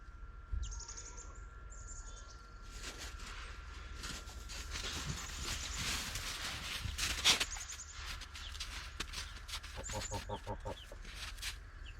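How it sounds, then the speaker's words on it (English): A baby chicken clucks and peeps close by in a snowy Alaskan spring setting, soft repeated calls amid rustling and handling noise. "Yeah, it's a chicken."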